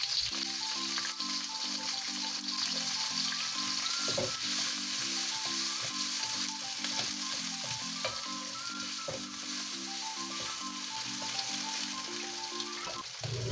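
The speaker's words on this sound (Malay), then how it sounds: "Untuk tumis bawang besar," Onions, ginger and garlic sizzle steadily as they sauté in hot oil in a pan, a continuous close frying crackle with no talk over it.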